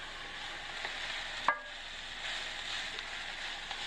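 Browned beef with onions and carrots is stirred in a pan for shepherd's pie, a low steady sizzle with one sharp clink of a utensil against the pan partway through, no talking.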